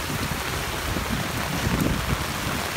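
Hail and rain pour down at the gate 11 roundabout during gusty wind, a dense, steady hiss of falling water and ice with slight swells in loudness, no voices.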